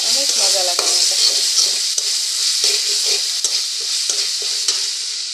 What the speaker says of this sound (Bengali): কষিয়ে নেব এখন ভালো করে মশলাটা